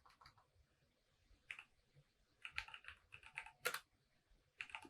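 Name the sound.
typing on a computer keyboard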